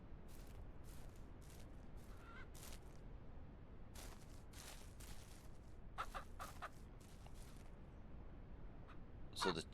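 Chickens in the ranch game Ranch Simulator Southwest cluck in short, scattered bursts, with occasional rooster-like calls. A quiet ambient bed runs underneath and a voice talks at times.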